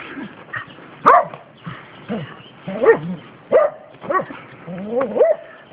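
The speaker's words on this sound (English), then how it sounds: "The doggies are barking, there must be somebody up there." Dogs bark repeatedly at a moderate distance, a series of separate yaps and barks spaced a second or so apart, some with a whiny edge.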